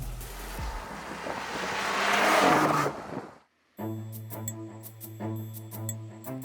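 A Mercedes-AMG C43 and a BMW M340i launch in a drag race, their engines swelling into a loud, rising roar for about three seconds before an abrupt cut to silence, after which music plays.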